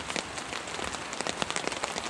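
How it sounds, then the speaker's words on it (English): Rain patters on a tent during a camping trip, a dense, steady spray of soft irregular drops tapping close by the fabric, with no voices. "still raining,"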